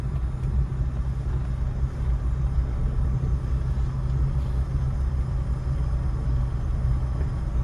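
A car reversing slowly during a driving lesson gives a steady, close engine rumble that continues evenly throughout.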